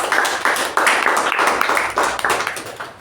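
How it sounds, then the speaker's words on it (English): A round of applause at a Toastmasters meeting, dense steady clapping from a small audience close by, sustained for several seconds with no talk over it. "Let's give a big round of applause."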